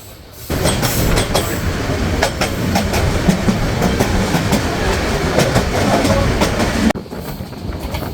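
Parjotak Express passenger train rolling on rails in eastern Bangladesh, a loud steady rumble of wheels with repeated clickety-clack beats at rail joints, heard close from on board, briefly dropping in level near the end.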